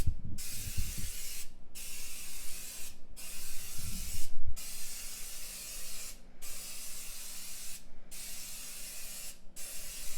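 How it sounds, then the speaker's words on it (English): Duplicolor trunk splatter paint sprays from an aerosol can in seven or eight steady hissing bursts separated by short pauses, with faint knocks and handling noise at low level, no voices. "It's like a multicolor splatter paint, and you just kind of dust this over it"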